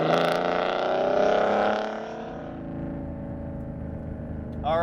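A big-turbo BMW M3 engine, around 500 wheel horsepower, pulls hard in second gear with a loud, steady, raspy drone that shifts slightly in pitch over several seconds, close and continuous.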